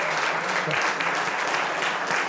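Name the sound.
applause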